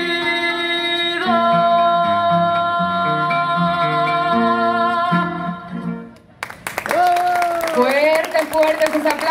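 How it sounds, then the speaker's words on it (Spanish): Audience applause erupts after a sung musical piece ends, greeting a devotional dance performance for the Virgin of Coromoto; the clapping is dense and steady, with a voice speaking over it. "Fuertes sus aplausos"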